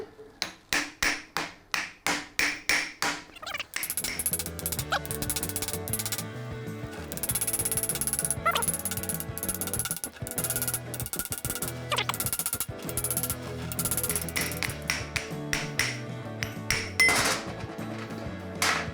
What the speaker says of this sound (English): Knock the ring gear off.